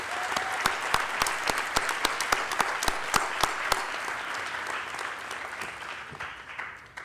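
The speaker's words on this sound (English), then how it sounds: "round of applause for our guidance staff." Audience at a high school academic awards ceremony claps for the guidance staff, with sharp, distinct near claps standing out over a steady wash of applause that thins slightly toward the end.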